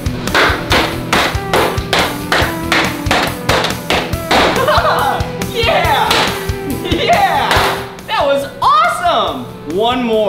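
A hammer strikes a big bar of chocolate again and again, a quick run of sharp close knocks and thuds, followed by a few more scattered blows while a person talks over them.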